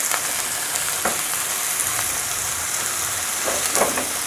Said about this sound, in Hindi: तकरीबन 5 मिनट तक हम ये कीमा भून लेते हैं